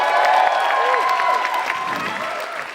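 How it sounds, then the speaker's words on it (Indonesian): A stand-up comedy audience claps and cheers for a comedian, loud and close, while a few voices call out and someone speaks briefly over the applause as it slowly tapers. "Tepuk tangan sekali lagi untuk"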